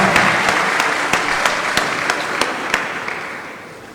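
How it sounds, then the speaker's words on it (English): A conference audience breaks into steady applause welcoming a speaker to the podium at an international event on the Rohingya crisis in Bangladesh, many hands clapping loudly before tapering off toward the end. "Would you kindly welcome him to the podium with a warm round of applause?"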